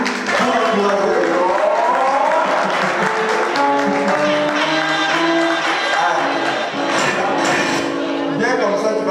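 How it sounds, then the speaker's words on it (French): A congregation at a birthday celebration applauds to encourage a man walking up, the lively clapping blending with voices and tuneful singing or music throughout. "Pendant qu'il s'approche, on a fait applaudir pour lui, pour l'encourager."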